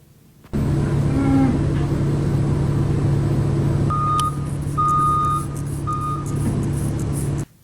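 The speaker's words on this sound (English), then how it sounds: "That's the feed truck on this farm." A farm feed truck backs up, its engine droning steadily near the listener while a series of evenly spaced backup beeps sounds over the hum.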